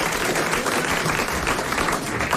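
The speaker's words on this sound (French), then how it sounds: "Vous l'applaudissez." Dense, steady clapping from a TV studio audience on a 1989 French variety show, applauding a prize winner without a break.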